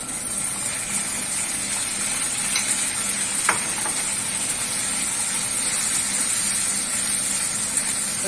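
Paneer sizzles steadily in a hot pan, a continuous oily hiss with a brief stirring scrape partway through.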